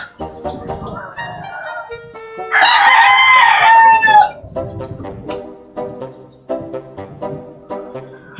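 A rooster crows loudly and close by amid repeated clucking from hens and thin peeping of a lost chick in a backyard, the calls overlapping in an uneven, busy chorus.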